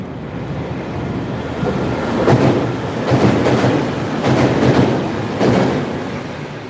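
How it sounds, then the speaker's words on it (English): A VLocity passenger train passes, a broad rushing roar with rhythmic swells as carriages go by, mixed with heavy wind buffeting the microphone outdoors. "Now that's the velocity train."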